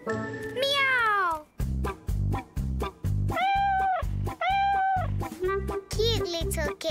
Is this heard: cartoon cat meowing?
yes